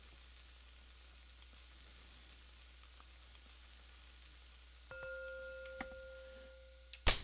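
Steady soft sizzling of food cooking in the Cook, Serve, Delicious kitchen game, faint and continuous, with a few clicks and tones near the end.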